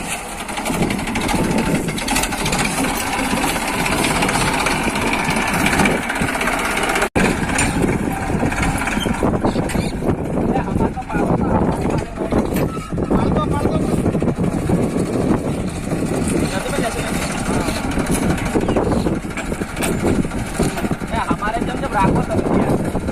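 A tractor engine runs steadily in a rural setting, its low, continuous drone carrying on for the whole stretch while people talk loudly over it.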